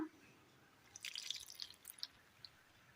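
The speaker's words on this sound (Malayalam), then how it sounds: "ഒരല്പം തേങ്ങാപ്പാൽ ഒഴിച്ചു കൊടുക്കുക" Coconut milk poured into a bowl for a Kerala recipe, heard as a faint, brief trickle with scattered light drips in a quiet kitchen.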